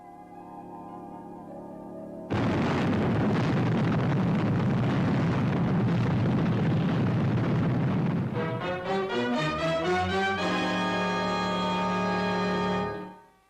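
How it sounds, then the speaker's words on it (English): From the Fireball XL5 soundtrack, a sudden loud explosion erupts into a long rumbling roar for several seconds, then fades into sustained musical tones. "That's the 7th explosion, Commander Zero."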